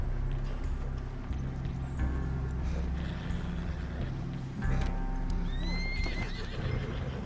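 A horse in the video game Red Dead Online lets out a whinny over steady clip-clop hooves and a low rumbling background, with a second rising neigh near the end.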